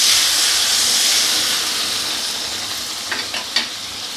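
Water poured into a pan of frying fish head curry sets off a loud, broad hiss of steam and sizzle that slowly fades, with a few spoon clanks near the end.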